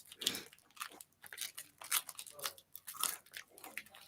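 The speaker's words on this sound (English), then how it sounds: "with their specialty brown sugar in these crunchy pretzel sticks" Crunchy Okinawan brown sugar pretzel sticks being bitten and chewed up close, a run of crisp, irregular crunches with short pauses between bites and no talk over them.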